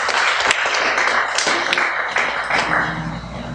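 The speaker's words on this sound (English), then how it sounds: "Let's give him a clap of praise." A church congregation claps together during a sermon, a full, steady wash of many hands with a few sharper individual claps standing out, loud and sustained before slowly easing off.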